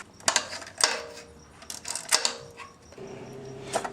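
Tools loosen the 10mm bolts on the lower timing belt cover of a VW Passat 2.8L engine, giving close, sharp mechanical clicks and ratcheting in several short bursts with no speech.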